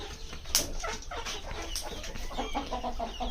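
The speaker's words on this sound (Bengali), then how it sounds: "এই দেখেন আমার মুরগি ডিম পাড়ার জন্য দুইটা মারামারি করছে" Chickens cluck and squawk nearby while two hens fight over a place to lay eggs, with agitated calls rising and falling in short, uneven bursts and no talking.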